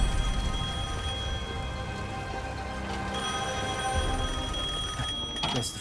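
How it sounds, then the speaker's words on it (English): An old telephone rings in Devil May Cry 5 over a steady game background, its bell tones continuing for several seconds at moderate loudness. "Oh, there's a phone."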